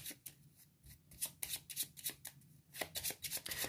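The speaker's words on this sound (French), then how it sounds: "je dois mélanger mon paquet pour piocher une dernière carte" Deck of cards shuffled close up during a solo game of the Heat board game, rapid riffling bursts repeated in quick succession, with no voices.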